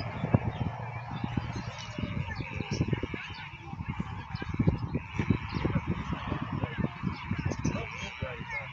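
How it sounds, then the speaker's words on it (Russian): Geese honking in a bird park aviary area, a busy flock calling repeatedly at middle distance over outdoor ambience, with people talking faintly in the background. "Их очень много, гусей"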